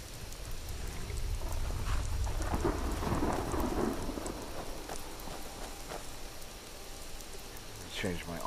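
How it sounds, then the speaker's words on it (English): Steady heavy rain and a low rolling thunder rumble from a Skyrim thunderstorm, the thunder swelling early then fading under the continuous downpour, with no talking. "I think this storm is going to clear up anytime soon."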